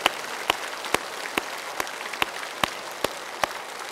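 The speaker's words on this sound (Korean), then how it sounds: "우리 그분들의 수고를 다시 한번 큰 박수로 격려하고 축복하십시다." At a Korean church Easter service and cantata, the congregation claps in steady rhythm, sharp evenly spaced claps about twice a second, fairly soft and heard without talk.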